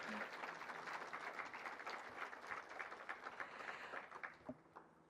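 An audience gives a round of applause at a Rose Queen announcement event, steady dense clapping throughout at moderate distance, with a voice faintly audible beneath.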